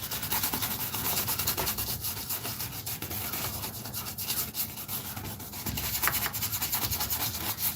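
A brush scrubs oil paint onto canvas in close, loud, rapid scratchy strokes that repeat in an uneven rhythm throughout, with no voices.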